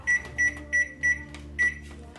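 A small microwave oven cooking two bags of vegetables hums low in the background while five short electronic beeps sound in a quick, uneven sequence.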